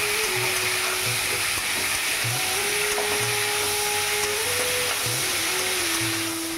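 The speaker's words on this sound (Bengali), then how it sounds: "আমটা দিয়ে এবার ভাজা ভাজা করে নেবো একটু।" Mango pieces frying in hot oil with dried red chillies and five-spice seasoning: a loud, continuous hissing sizzle over a steady droning hum, with no talking.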